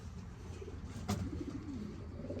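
Racing pigeons give a soft, low burbling coo near the middle of a short, quiet stretch, faint and alone without talk.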